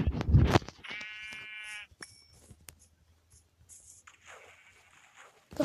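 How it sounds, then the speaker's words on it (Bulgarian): Minecraft sheep bleat in a survival game, one clear wavering bleat near the start among hit and step noises, followed by quieter game sounds and a second fainter bleat. "сега ще убиеме тези овце"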